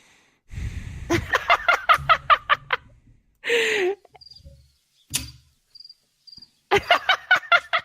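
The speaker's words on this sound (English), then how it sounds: "I'll just throw you some crickets." Crickets chirp as a sound effect in rapid, pulsed trains of shrill chirps, loud and close, separated by a few brief unrelated noises.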